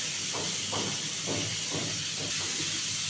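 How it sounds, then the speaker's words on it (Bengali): Onions sizzle in a hot pan while being stirred for a rohu fish dopiaza, a soft, steady frying hiss with faint periodic scrapes of the stirring utensil. "পেঁয়াজটা একটু নাড়াচাড়া করছি"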